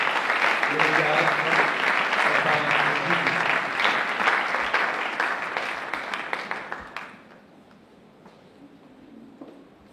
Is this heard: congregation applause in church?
yes